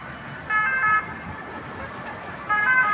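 An ambulance siren sounds on a Paris street, its two-tone wail rising in short bursts above loud traffic noise, close by and with no talking.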